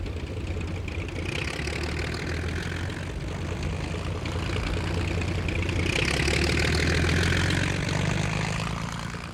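A World War I fighter plane engine throbs at takeoff, a rough continuous propeller drone that grows somewhat louder toward the end, with no speech.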